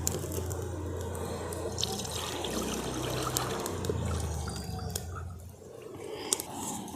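A steady trickle of one litre of milk pours into a pan set on a lit stove, a soft continuous liquid flow lasting several seconds before thinning out.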